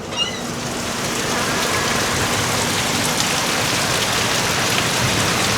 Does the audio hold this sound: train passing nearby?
no